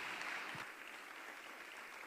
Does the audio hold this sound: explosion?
no